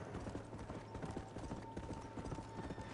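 A horse's hooves clip-clop in a steady, continuous rhythm in the game Red Dead Redemption, close and fairly even, with a faint game background beneath.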